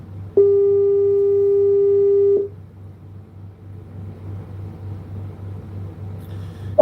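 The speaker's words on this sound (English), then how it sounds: "We have a phone call." A single steady phone call tone sounds for about two seconds, a loud pure beep that stops abruptly, followed by a low rumbling background hum.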